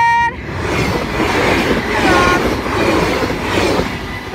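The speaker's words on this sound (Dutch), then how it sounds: "Hallo, trein!" A train passes close by at Sint Joost in the Netherlands, preceded by a brief horn toot, then a loud sustained rumble of wheels and carriages with faint squeals throughout.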